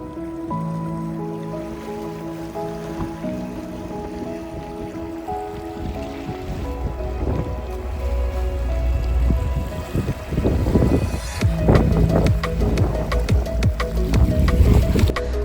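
A public ferry boat in Malta, ridden with a bus-style travel card, churns across the water with a steady low engine hum and rushing, splashing wash that grows louder and rougher over time, close up with no talking.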